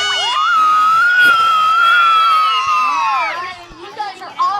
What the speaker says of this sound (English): Let's hear a big scream with a 1, 2, 3.